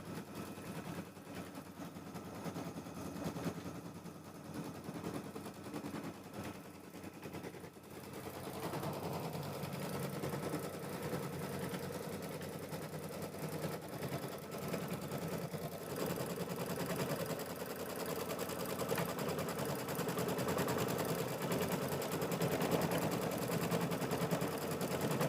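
An embroidery sewing machine stitches a pebble background quilting design, running as a continuous fast mechanical chatter close by for the whole stretch and growing slightly louder midway, with no talking.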